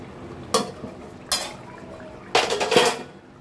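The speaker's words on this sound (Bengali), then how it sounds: "এবারে আমরা ঢাকাটা খুলে দেখব।" A metal lid lifted off a pot of simmering fish curry, with sharp clanks and scrapes in a few separate bursts over a low kitchen background.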